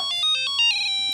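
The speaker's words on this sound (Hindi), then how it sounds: "रात को कौन फोन कर रहा है यार? अरे यार उठाना फोन" A phone ringtone at night repeats in a few short, bright electronic bursts, loud and close, with no talk over it.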